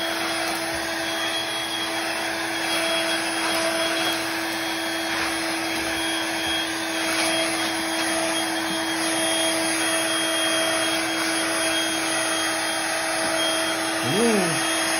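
A Dirt Devil Versa Clean vacuum cleaner runs steadily and loudly throughout, a constant whine with a brief dip in pitch near the end as it is switched or handled.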